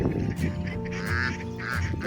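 Wild geese with clipped wings honk and quack repeatedly at moderate distance over a low background hum, in Sakarca.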